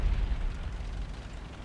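A Leopard tank explodes off to one side in a video game, a low rumbling boom that rolls and fades over a second or so.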